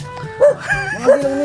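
A dog nearby gives two yipping barks with whiny, rising tones, spaced about half a second apart.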